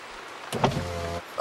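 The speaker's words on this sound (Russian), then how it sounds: "Папа свин забыл, какая кнопка поднимает крышу." In a cartoon, an electric convertible car roof motor whirs briefly for under a second, a short mechanical hum set against a quiet background.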